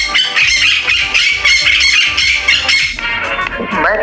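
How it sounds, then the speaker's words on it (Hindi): Repeated bright parrot squawks ring out over a busy, loud cartoon baby-song backing track, recurring throughout the music with rhythmic beats underneath. "जो पैरट की म्यूज़िक है वो लगाई है"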